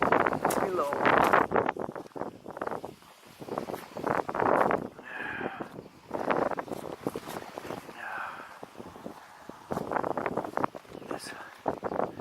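Gusty outdoor wind during the move of a Bestway Fast Set swimming pool, buffeting the microphone in rough surges that rise and fall. Someone talks over the rumble throughout.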